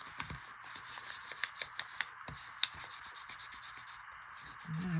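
A hand rubbing paper to warm glue so it sticks, while crafting coin wrapper pockets, heard as quiet, close, repeated scratchy strokes in an irregular rhythm.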